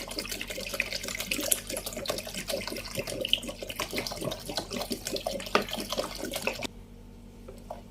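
Water poured from a tap into a bowl of bread dough mixture, a steady, faint splashing trickle that runs for several seconds and then stops.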